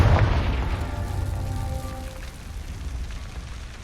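Confringo blasting spell from the Hogwarts Legacy video game on Xbox One, a sharp booming burst that quickly fades into a crackling, rumbling decay.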